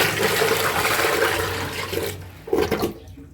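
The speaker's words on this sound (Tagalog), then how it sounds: "Buhusan ko pa ng isang beses para wala talagang bara" Water poured from a container into a newly installed toilet bowl to check for clogs, a strong rushing gush that fades, then a short second splash before it trails off.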